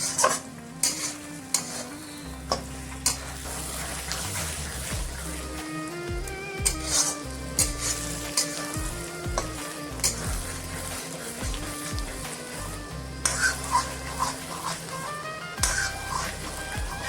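Coriander leaves are stirred into mutton brain frying in a pan, with a continuous sizzle under repeated scraping and clinking strokes of a spoon against the pan, close and fairly loud, while background sounds drift through.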